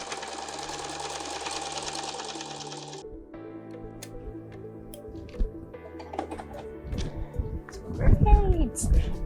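A sewing machine stitching patchwork with a zigzag or straight stitch runs in a fast, steady whir for about three seconds, then stops, followed by handling clatter and a voice.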